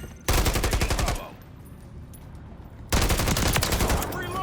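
Rapid automatic gunfire from a first-person shooter video game on a new PC, two loud sustained bursts separated by a brief quieter pause.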